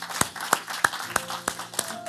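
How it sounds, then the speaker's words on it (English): A church congregation gives a brief round of applause during a Sunday worship service: a handful of slow, evenly spaced hand claps ring out in a reverberant hall. "Can we applaud those that may have given their life to the Lord today?"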